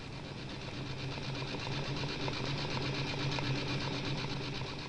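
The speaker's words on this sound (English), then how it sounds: "vacuum pumps remove the air." Vacuum pumps evacuate air from a sealed aluminum metallizing chamber holding plastic parts on a rotating frame, a faint, steady mechanical hum and whir with a continuous rhythmic drone throughout.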